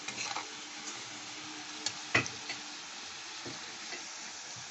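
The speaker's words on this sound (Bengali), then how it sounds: "সেই আলু আর পেঁয়াজ ভেজে ভেজে ভাজা ভাজা করে নিচ্ছি" Potatoes and onions frying in a pan with dried red chilli and cumin, a steady, fairly quiet sizzle with a few louder crackles and one sharp pop partway through.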